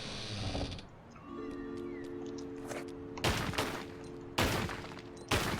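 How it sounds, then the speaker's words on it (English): Gunfire in a Tomb Raider level set in a seaside hamlet, shooting at barrels: three loud broadband bursts of shots after a quieter stretch of game ambience and mechanical hum. "Shoot the barrels because I can't help myself, but there's nothing in them."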